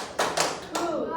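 A classroom group performs the rhythmic 'tepuk semangat' clapping routine: short bursts of sharp unison hand claps in a quick patterned rhythm, close and fairly loud.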